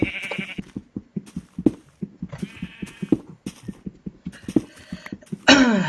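Repeated Minecraft sheep bleats ring out over a steady rhythmic clomping of footsteps, with a louder, sharper bleat near the end.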